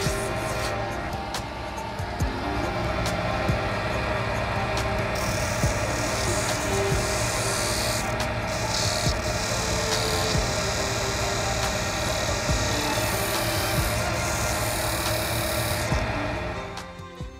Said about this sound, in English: I now move on to a scraper to gouge out the long and round shank.